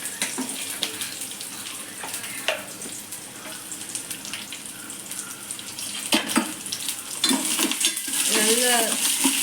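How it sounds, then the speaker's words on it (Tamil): Small onions sizzle softly in a pan while a spoon scrapes and stirs in scattered strokes, the frying growing louder toward the end. "கிண்டி விடணும் இப்படி வெங்காயம்"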